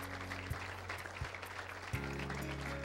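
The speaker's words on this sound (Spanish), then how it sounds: "Denle un aplauso al Espíritu Santo." A church congregation at a Spanish-language worship service claps, a soft, scattered patter of hands heard at a distance beneath sustained low keyboard chords that shift a few times.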